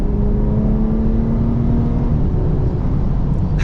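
Loud, steady engine drone from a modified BMW 340i F30 under a full-throttle pull, a rising tone holding for a few seconds before easing, heard from inside the car with no talk.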